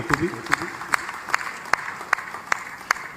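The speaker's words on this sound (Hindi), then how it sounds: "जोरदार तालियां इस हेतु भी।" At an inauguration and foundation-stone ceremony in Churu, a crowd claps in a steady, evenly spaced rhythm of about eight sharp beats, with voices murmuring underneath.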